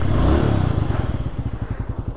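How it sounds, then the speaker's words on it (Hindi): A rented Bajaj Avenger cruiser motorcycle engine on a Ladakh road trip runs close and loud, a steady low throbbing idle that settles into an even pulsing beat, with no speech. "अभी मेरे पास ये वाला बाइक है एवेंजर का,"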